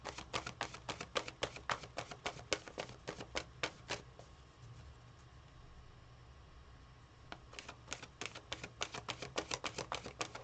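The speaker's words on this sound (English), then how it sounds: "I need to shuffle first." Tarot cards being shuffled by hand: quick runs of crisp riffling and tapping bursts, a quiet pause in the middle, then another rapid run, close and without talk.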